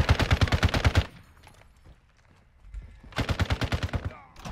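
Bots firing automatic weapons in Warzone 2, rapid bursts of gunshots at the start, a quiet stretch with faint rustling, then another loud burst of fire.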